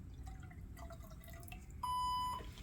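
Blood loss monitor for operating rooms sounds its alarm as measured blood passes a 1,000 millilitre threshold: a single clear electronic beep tone lasting about half a second after faint dripping and quiet clicks.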